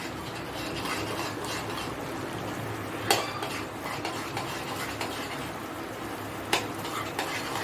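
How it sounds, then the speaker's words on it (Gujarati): A spoon stirs pav bhaji mixture in a pan, producing a steady close scraping and rubbing with a soft cooking hiss and two sharper clinks against the pan's edge. "સરસ રીતે બધું મિક્સ કરી દઈએ."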